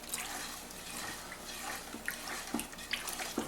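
Stirring about four or five pounds of sugar into a homemade wine cooler liquid, a faint watery sloshing and swirling with a few soft clinks, close by and without talk.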